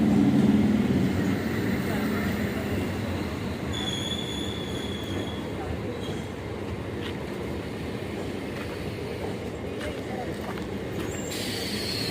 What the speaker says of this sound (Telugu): ఇంకో ఎంఎంటీఎస్ వస్తుంది.